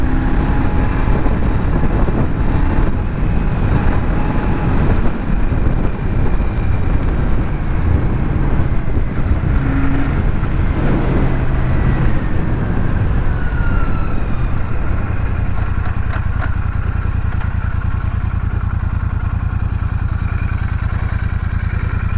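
A Royal Enfield Super Meteor 650 motorcycle engine drones loudly and continuously while riding, revving and settling, with heavy wind rush throughout.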